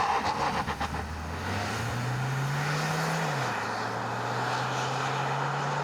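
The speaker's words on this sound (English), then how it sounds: "it's time to launch the Mahindra XUV700" A Mahindra XUV700 launches under full acceleration: the engine note climbs steadily in pitch, drops briefly at an automatic upshift, then holds a loud, close drone.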